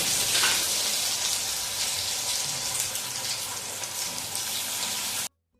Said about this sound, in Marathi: आता मी हे सर्व बटाटे ना तळून घेते थोड्या थोड्या करून